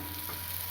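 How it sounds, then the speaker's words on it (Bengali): Spice paste fries in a pan for a cauliflower and potato curry with rohu fish, making a steady, even sizzle that stays close and continuous through a brief moment with no talking. "এবারে মশলাটা আমি একটু কষে নেব"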